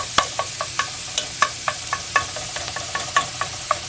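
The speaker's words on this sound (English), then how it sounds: "now you get to see me cooking pseudo-Mexican food" Pseudo-Mexican food cooking on a stove, with repeated short stirring scrapes and clinks over a steady background sizzle of frying, close by and moderately loud, no talking.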